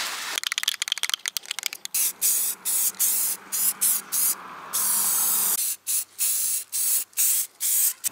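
A rattle-can spray paints car bumper caps with sharp, hissing bursts, a quick run of short sprays at first, then longer steady blasts separated by brief gaps, close and loud.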